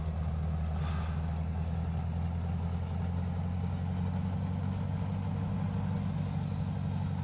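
A Tiger Moth biplane's engine drones steadily as the aircraft taxis, giving a constant low rumble with no pauses.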